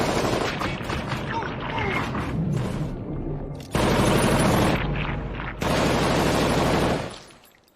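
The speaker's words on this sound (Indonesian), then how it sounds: "semua tim yang tersisa berhasil bertahan dari rentetan peluru yang ditembakkan oleh Steve" Gunfire erupts in a heist action film scene, rapid bursts of automatic shots interleaved with loud booms and mechanical clatter, dense and close, cutting off abruptly before fading out.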